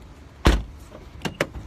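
A sharp thunk of a car door or lock actuator, followed by two quick electronic chirps from the car, short and close.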